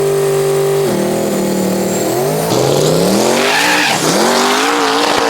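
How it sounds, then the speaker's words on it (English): Texas Speed fifth-generation race car with an LS3 engine revving loud and close, its pitch sweeping up and down through several throttle blips with tire squeal rising over the engine. "This is our 5th-gen race car."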